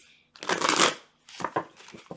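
Tarot cards are shuffled close up, with one long riffling burst followed by a few shorter rustling shuffles and no voices.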